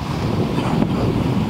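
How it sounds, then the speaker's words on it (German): Wind buffets an outdoor microphone on a Mallorca holiday, a steady loud rumbling roar with broadband rushing that never lets up, and no voices. "So, der Wind ist auf jeden Fall da."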